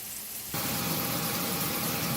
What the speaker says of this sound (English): Now they're sizzling a lot